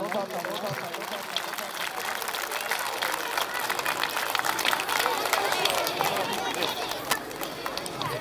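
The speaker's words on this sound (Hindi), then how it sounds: "बशीर अहमद के लिए जोरदार तालियां।" An audience at a school Children's Day ceremony applauds continuously, a dense, even roar of many hands clapping throughout, with crowd chatter mixed underneath.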